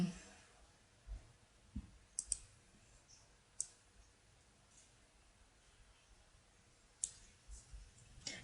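Computer mouse clicks while working in Flash CS6: sparse, faint, sharp clicks at irregular intervals against a quiet room hiss.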